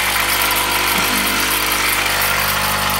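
A 1.5 horsepower electric motor runs steadily at close range, giving a loud, constant hum with a faint whine and no breaks across the whole stretch.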